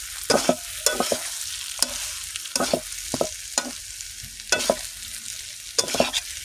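Mixed vegetables fry in a pan with a constant soft sizzle, broken every second or so by sharp spatula scrapes and clatters as they are stirred, close and alone.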